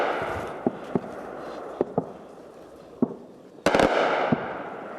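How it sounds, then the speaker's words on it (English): Sharp gunshots from Ukrainian troops firing at a suspected Russian drone during fighting in Kupiansk, heard as scattered single cracks at irregular intervals, then a louder close burst with a rolling echo. "So the gunfire you can hear is Ukrainian troops trying to shoot down a suspected Russian drone."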